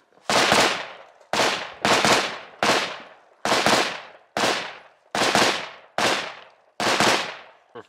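Pistol shots fired one at a time in a Mozambique drill at a large outdoor shooting range, eight loud, close reports spaced roughly a second apart, each with a brief echoing tail and no talking.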